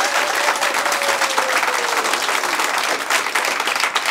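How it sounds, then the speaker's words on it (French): A crowd at an improv cabaret show claps enthusiastically, dense and sustained applause that stays loud from start to finish. "Applaudissez, voir."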